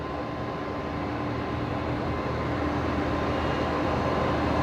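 An ex-American Airlines Fokker 100 jet airliner at Brisbane Airport gives a steady, broad jet roar that stays even and unbroken throughout.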